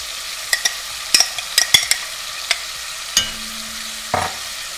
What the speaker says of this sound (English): you wanna cook the coconut milk